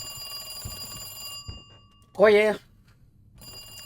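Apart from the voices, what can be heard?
telephone ringing in video game Resident Evil 2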